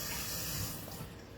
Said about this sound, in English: I'm gonna rinse them off. Just rinse them off a little bit.